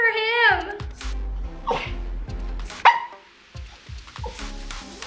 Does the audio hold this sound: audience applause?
no